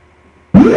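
After a half-second of near silence, a sped-up dubstep scream synth made in Massive bursts in loudly, a short, gritty, rapidly rising electronic screech with nothing else around it.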